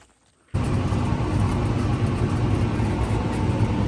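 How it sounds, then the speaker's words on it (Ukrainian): A Claas Lexion 580 combine harvester with a Mercedes engine cuts in abruptly after a brief silence, then roars steadily and loudly close by while harvesting green peas. "Класс Lexion 580 с мерседесовським мотором"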